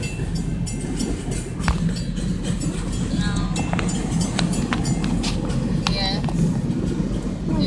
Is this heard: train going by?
yes